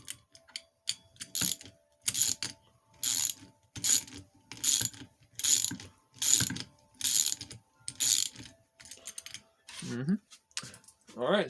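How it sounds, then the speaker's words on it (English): A ratchet wrench needing oil tightens bolts in a crisscross pattern while assembling an 80cc two-stroke engine kit onto a 1969 Sears bicycle, giving loud, close, evenly spaced bursts of rapid clicking, one after another. "My wrench needs some oil."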